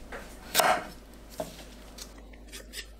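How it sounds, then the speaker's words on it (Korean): A knife trims both ends off a zucchini on a cutting board, two distinct chopping knocks, the first louder, followed by a few faint taps and quiet handling noises. "애호박 양 끝을 자릅니다."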